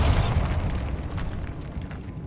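A Bombarda spell goes off in Hogwarts Legacy, a sharp, heavy explosion right at the start that decays into a low rumbling fade, loud and close with no voices.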